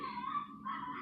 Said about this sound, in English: that is my neighbor's dog, and he's about this big.